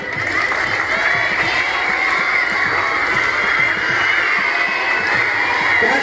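A crowd of schoolchildren on a government school ground clapping loudly in a quick, even rhythm, with cheering and shouting mixed in throughout.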